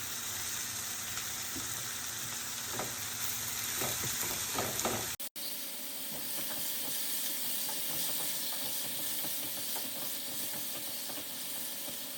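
Onions lightly sautéing in a pan with asafoetida give a continuous loud sizzle and hiss, broken by a brief clunk midway, then the frying carries on steadily without talk.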